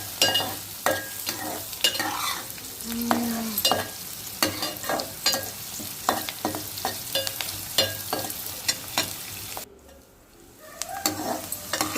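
Onions and carrots stir-frying for restaurant-style veg noodles in a pan, a steady sizzle broken by repeated sharp clanks and scrapes of a spatula, close and busy throughout.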